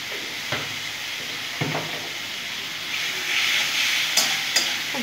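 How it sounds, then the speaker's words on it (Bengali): Chickpea ghugni with goat fat, ginger and cumin powder is sautéed in a pan, giving a steady hissing sizzle that swells slightly, punctuated by a few sharp stirring knocks. "ভালো করে আমি কষে নেব"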